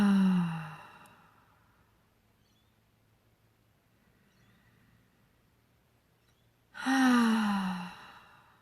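Two deep, slow breaths taken during a calm guided stillness practice, each a long airy sigh-like exhale, one at the start and one near the end, with near-silence in between and no talking.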